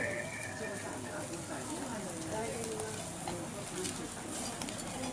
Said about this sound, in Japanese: でこうやって炭火で焼いてね